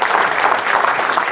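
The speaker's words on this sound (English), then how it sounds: "round of applause." Student audience at a conference clapping for donors, a dense, loud, close wash of many hands applauding throughout the short burst with no speech over it.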